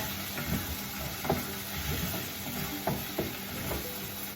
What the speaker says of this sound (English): Just give a good stir.